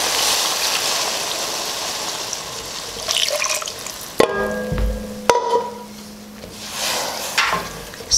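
Coconut milk, two and a half cups, poured into a pot, a liquid gush with splashes, knocks and clinks, close and moderately loud with no talking.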